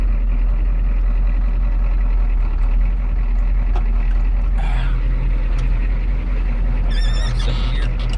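A 1987 Ford F350 pickup with the 6.9 IDI diesel rolls along, its engine giving a steady, loud low rumble close by throughout, with a few brief higher clanks and rattles on top.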